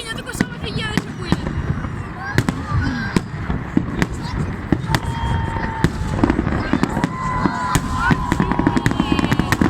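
Victory Day fireworks salute on May 9, with many sharp bursts and crackling pops in rapid succession against a dense background of crowd noise, and people talking and exclaiming throughout.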